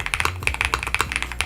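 Rapid clicky keystrokes on a foam-filled budget mechanical keyboard, a steady irregular patter of sharp close taps with muted thocky low ends, no voices.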